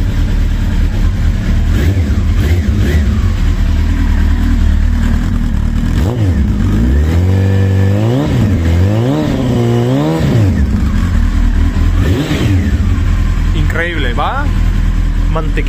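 A Honda CBR900RR SC28 Fireblade sport motorcycle engine idles loudly, then revs up and down several times in quick surges before settling back to a steady rumble.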